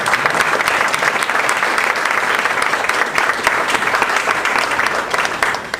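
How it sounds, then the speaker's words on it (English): Sustained, dense round of applause from a conference audience after a talk, loud and steady throughout with no break. "let's give Ross a big round of applause"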